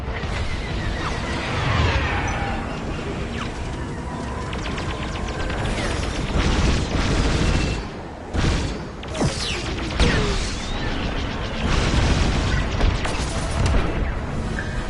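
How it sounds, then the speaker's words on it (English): Carrier ship exploding in a Star Wars Squadrons space battle: a dense, continuous barrage of rumbling booms, crashes and whooshing blasts with sweeping laser-like streaks, loud and close, with a brief lull midway. "the second carrier goes up in flames"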